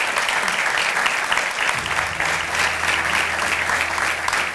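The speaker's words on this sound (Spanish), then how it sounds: "Un fuerte aplauso, por favor." Audience applause at a business awards gala fills the room with steady, dense clapping throughout, loud and sustained with no speech over it.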